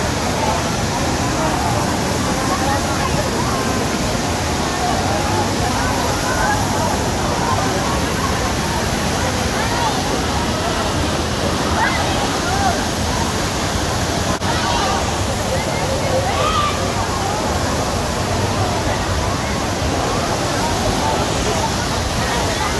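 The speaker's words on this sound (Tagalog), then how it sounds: "Ito po ang waterfalls ng Mayhay" Majayjay waterfall in Laguna, a loud, continuous rushing roar of falling water heard up close, steady throughout with a few faint voices mixed in.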